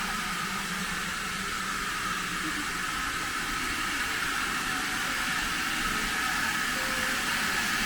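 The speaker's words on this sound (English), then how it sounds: "And we've got the steam train." A steam train on the Great Central Railway near Leicester, heard as a continuous broad hissing roar with a low rumble, steady and fairly loud throughout, no voices.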